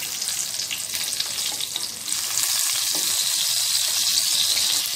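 Masala-stuffed eggplant cooking covered in a pan, giving a steady, close hiss of sizzling that grows slightly louder and fuller halfway through.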